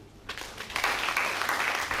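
Audience at a Prison Fellowship Nigeria workshop clapping for an online guest, the President of Prison Fellowship International; scattered claps swell after a quiet start into steady, fairly distant applause.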